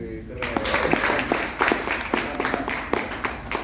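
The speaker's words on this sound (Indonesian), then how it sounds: "Boleh tepuk tangan dong." Audience applause at a health talk, a steady crowd clapping with sharp scattered hand claps over a continuous wash, moderately loud with voices faintly underneath.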